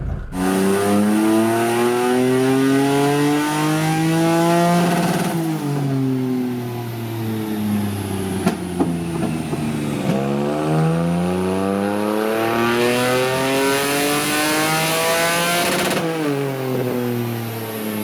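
A boosted car engine revs hard on a power run, its pitch climbing in loud sweeps, dropping, then climbing again. It is close and strong with no talking.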